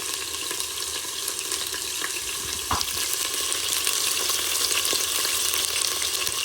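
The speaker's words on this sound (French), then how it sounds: "je mets un filet mignon de veau à revenir. Voilà, je vais le faire dorer" Veal filet mignon browning in a Cookeo multicooker pot, a continuous dense sizzle and spatter, close and steady, with a brief knock near the middle.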